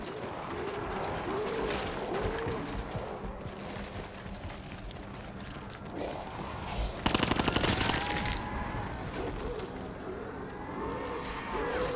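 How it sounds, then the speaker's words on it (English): Gunfire in Call of Duty Black Ops 4 Zombies, repeated rapid shots over busy game noise, with a dense loud automatic burst around the middle and a player talking throughout. "Gotta keep shooting it right there."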